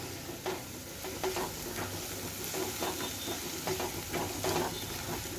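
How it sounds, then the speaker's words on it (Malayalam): Crushed ginger, garlic and green chilli sizzling in a pan while being stirred, a constant frying hiss with repeated soft scrapes of a spoon against the pan, no voices. "ഇഞ്ചി, വെളുത്തുള്ളി ചതച്ചത് ഇട്ട് കൊടുക്കുക. അപ്പം ഇത് നന്നായിട്ടൊന്ന് ഇളക്കി കൊടുക്കുക"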